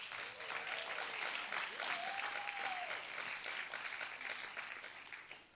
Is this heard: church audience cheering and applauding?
yes